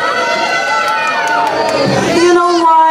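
Crowd shouting and cheering at a live event, loud overlapping voices with rising whoops, close and dense for a few seconds.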